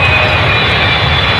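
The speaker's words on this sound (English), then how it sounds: "So that's the plane now." An airplane flies overhead with a loud, steady, unbroken engine roar that fills the whole moment without any voices.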